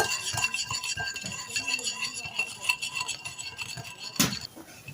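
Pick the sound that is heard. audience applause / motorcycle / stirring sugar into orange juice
stirring sugar into orange juice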